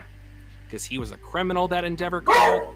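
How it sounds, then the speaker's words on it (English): A pet dog barks and yips in a few short bursts, the last and loudest near the end, overlapping ongoing conversation between people. "Sorry, that's my dog."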